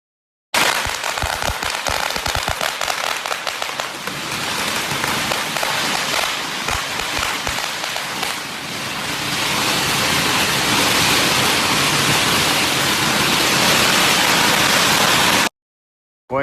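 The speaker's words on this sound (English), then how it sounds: "you can still hear the firecrackers popping off" Firecrackers pop at night in Nagasaki, a dense string of sharp crackling bursts at first that blurs into a continuous hissing crackle, fairly loud and without talk.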